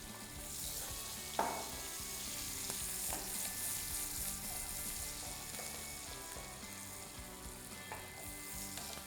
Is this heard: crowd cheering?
no